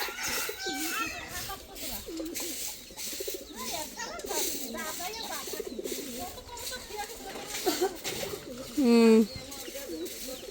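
Pigeons coo repeatedly nearby in soft, throaty rolls, with other bird calls and people chatting in the background.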